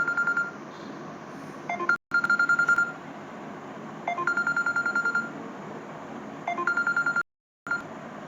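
A telephone rings in repeated bursts of electronic trilling tones, steady and moderately loud, with short pauses between rings and a couple of brief dropouts, and no speech over it.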